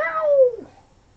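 A cat gives a single clear meow, drawn out and falling in pitch, then fades to near silence.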